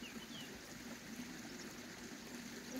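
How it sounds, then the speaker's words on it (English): Water from a makeshift hose fed by a small stream flows steadily on an off-grid homestead in Portugal, a faint, continuous trickling rush with no talk. "This is the water coming from the water mine"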